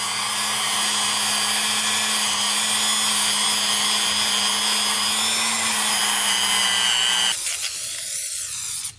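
A drill-driven hone scrapes inside a rusted, seized engine cylinder from a Kawasaki Mule, a loud steady whirring grind that runs continuously for about seven seconds before cutting off abruptly.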